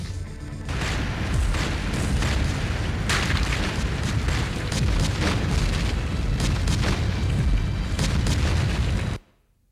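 Dense, sustained barrage of heavy gunfire and booming explosions in a 2004-era PC combat game, loud and continuous for about nine seconds before cutting off abruptly.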